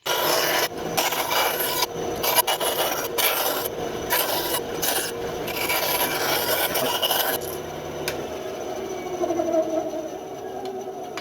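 A hand saw rasps steadily through carved wood while cutting out a wooden fishing reel part, loud and close in rapid repeated strokes, then easing to quieter scraping near the end.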